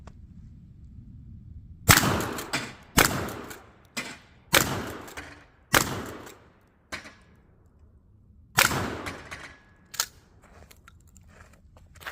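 A Remington 870 Express .410 shotgun fires a series of about eight sharp, loud shots, spaced roughly a second apart with brief quiet gaps between them.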